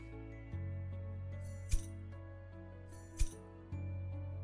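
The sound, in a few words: impact on metal sound effect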